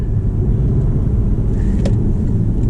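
A Porsche 991.1 911 Carrera cruises at about 38 mph with a steady low engine and road rumble inside the cabin, and a brief dip as the automatic gearbox shifts up to fourth.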